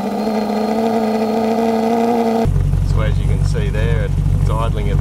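A classic Range Rover V8 idles with a steady, even hum; halfway through it turns into a deeper close rumble as someone talks over it.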